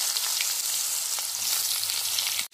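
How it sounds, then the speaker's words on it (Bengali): Eggplant pieces fry in hot mustard oil in a wok, giving a loud, steady sizzle that fills the whole stretch without pause and stops abruptly at the end. "এবার এই কড়ার তেলের মধ্যে আমি বেগুনগুলো দিয়ে দেবো"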